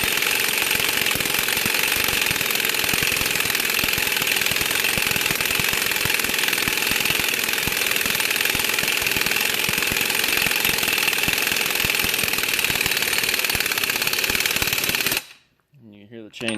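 A socket wrench tightens the wheel hub on a Honda Accord during a wheel bearing replacement, giving a loud, continuous rapid rattling hammer that runs steadily for about fifteen seconds, then cuts off abruptly into near silence.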